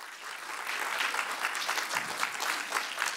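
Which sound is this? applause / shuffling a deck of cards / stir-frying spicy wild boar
applause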